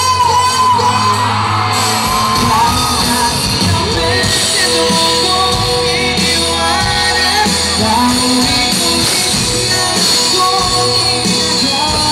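Crowd at a concert in Kalibo, Aklan shouting, whooping and yelling continuously and loudly over amplified music, the cheering dense and sustained throughout.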